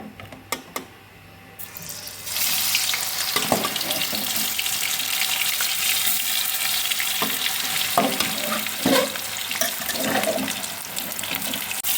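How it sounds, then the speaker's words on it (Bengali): Marinated cauliflower pieces are dropped into hot oil to deep fry. A few light clicks are followed by a loud, rushing sizzle that swells after about two seconds and holds steady with scattered crackles and pops. "এখন এগুলো ভেজে নেব।"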